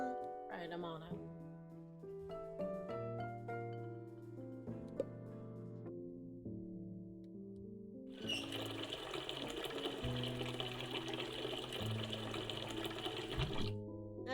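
Water pours into a glass in one steady stream of about five seconds, coming after a stretch of soft background music that carries on underneath.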